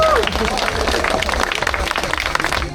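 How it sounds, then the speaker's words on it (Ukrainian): A crowd applauds sport-category women's age-group winners at a race awards ceremony, steady dense clapping rolling on continuously, with a brief bit of voices at the very start. "ваші оплески"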